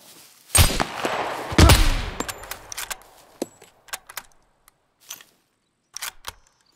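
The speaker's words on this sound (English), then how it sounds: "I'm walking straight into your gunshots." Two loud gunshot blasts ring out in the video game Scum, followed by a scatter of sharper, quieter clicks and pops separated by short silences.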